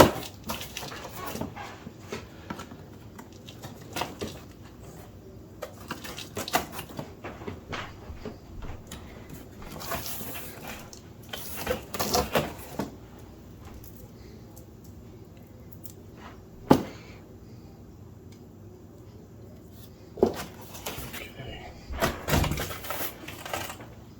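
Cardboard packaging of a Carrera Digital 132 slot car starter set being cut open, with intermittent scraping, tearing and crinkling noises, short bursts separated by quieter handling sounds and a few sharp knocks.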